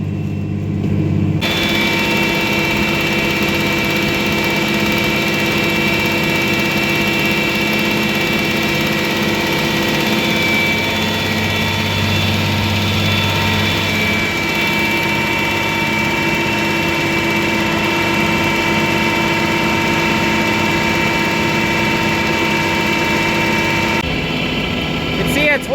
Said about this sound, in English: Gonna fire up this tractor, stir it a little bit